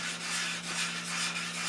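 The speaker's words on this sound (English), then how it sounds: "I always like to finish with a little orbital hand sanding on it to diffract the sanding scratches" Wood is hand-sanded in circles with 180 grit sandpaper, giving a close, continuous scratchy rubbing with gentle rhythmic swells and no voices.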